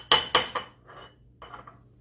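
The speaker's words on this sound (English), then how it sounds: "Let's muddle these blackberries in the bottom of this, get those juices out" Blackberries being muddled in the bottom of a copper mug, several hard metallic knocks and clinks of the muddler in quick succession, then softer mashing taps, close and moderately loud.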